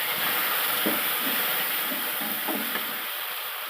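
Chopped tomatoes tipped into golden-fried onions for a brinjal and raw mango sambar give off a steady, close hiss of sizzling oil. It runs continuously with a few soft bumps of movement in the pan and no talking.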